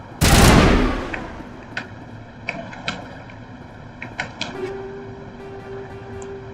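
A single loud, booming shotgun blast in Mass Effect 1 Legendary Edition, followed by a decaying tail, then a few faint clicks and a low hum.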